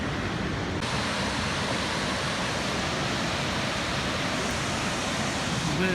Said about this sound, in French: on découvre encore une fabuleuse cascade, immense, très belle